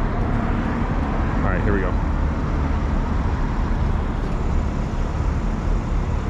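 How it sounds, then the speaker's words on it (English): Outdoor ambience of continuous road traffic and passing airplanes, a broad steady roar throughout, with someone speaking briefly near the start. "Got airplanes, traffic, all kinds of noise over here."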